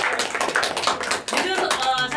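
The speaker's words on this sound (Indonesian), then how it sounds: "Tepuk tangan dong." A small audience at a casual podcast recording claps in a quick burst of handclaps, mixed with people talking over it.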